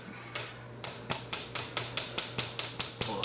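A hammer strikes repeatedly while a cold air intake is fitted to a 2019 Honda Civic Type R (FK8), about a dozen sharp metallic knocks at a steady, even rhythm, close and distinct with a short pause before the second hit.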